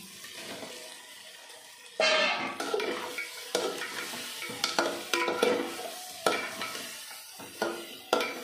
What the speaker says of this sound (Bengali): এখন দিয়ে দেবো ভেজে রাখা আলু।